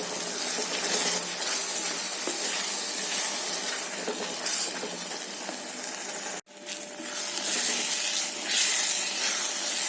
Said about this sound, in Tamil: அதையும் இந்த எண்ணெயிலேயே நல்லா வதக்கிடலாம்.